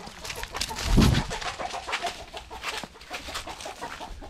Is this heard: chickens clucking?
yes